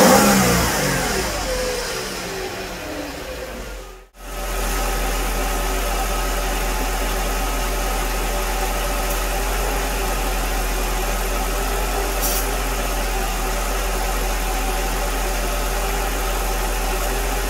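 A Mercedes R129/W209 engine runs steadily at warm idle, with a brief dropout around four seconds and a few revs at the start, droning loud and close with no voices.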